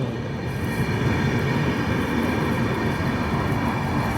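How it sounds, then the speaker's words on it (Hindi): The Vidarbha Express pulls into a platform at Manmad Junction with a loud, steady low rumble and roar of rolling wheels and rail noise, close by and unbroken. "मनमाड जंक्शन के प्लेटफॉर्म नंबर 3 पे अराइवल हो रहा है।"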